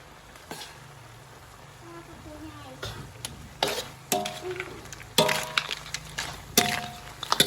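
Food, with egg added, is stir-fried in a pan, with a soft sizzle under sharp, irregular scrapes and clanks of a utensil that grow louder and more frequent toward the end.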